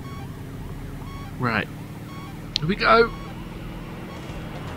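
Police car siren wailing in the Midtown Madness racing game, a brief wavering rise near the middle and another louder burst later, over steady engine hum, with someone talking excitedly around it.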